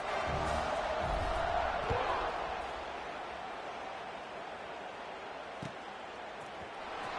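Football stadium crowd roars loudly and steadily right after a college football kickoff, a dense wall of cheering that eases slightly after the first few seconds but stays sustained throughout.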